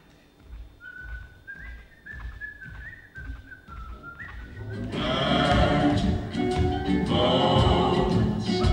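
A person whistles a short melodic tune, fairly close, then louder music or commotion swells in and covers the rest.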